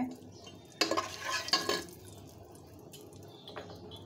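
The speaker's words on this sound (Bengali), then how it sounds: "তেজপাতা, দারচিনি, লবঙ্গ, এলাচ এগুলা দিয়ে দিচ্ছি।" Bay leaf, cinnamon, cloves and cardamom going into hot oil, a couple of sharp sizzling bursts with metallic clinks against the pan, then quieter faint frying and occasional clatter.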